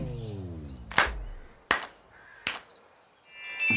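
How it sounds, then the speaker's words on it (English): Three sharp, separate hand claps ring out at even intervals in a children's cartoon, each crisp and close, with a descending musical tone before them and a soft twinkling chime after. "Now clap three times to bring it to life."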